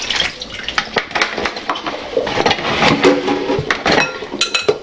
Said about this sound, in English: So now we're going to rinse this out here.